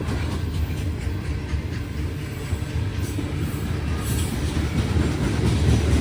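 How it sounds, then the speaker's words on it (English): A long coal train rolls past at Muncie, a continuous loud rumble of wagons and wheels on the rails, close and steady with faint clicking, no talk. "Kind of interesting, they got two coal trains."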